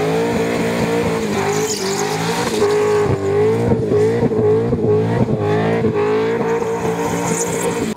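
A car accelerates and revs hard, its engine note rising and falling loudly and close, broken by bursts of tire squeal and skidding as it is thrown around, with no talk.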